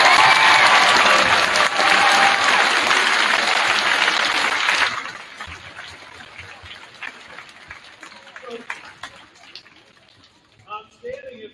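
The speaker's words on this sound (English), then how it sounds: "Give yourselves a huge round of applause." Students at a middle school assembly break into loud, sustained applause lasting about five seconds, then it cuts off, leaving quieter room noise with scattered brief sounds and a few faint voices.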